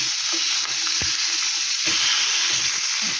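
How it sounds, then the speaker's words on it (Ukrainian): Steady crackling sizzle of meat frying in lard, constant and close, with occasional stirring knocks and scrapes. "Смалець не витоплюється, м'ясо смажиться, і шкабарчик на смальцеві"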